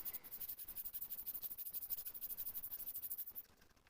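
A gladius sword blade is hand sanded, the paper rasping in a fast, steady back-and-forth rhythm of about eight strokes a second, close and fairly quiet, then stopping just before the end.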